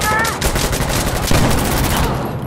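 Rapid bursts of gunfire in the tactical shooter Insurgency Sandstorm, loud and dense, with overlapping shots cracking almost continuously across the whole stretch.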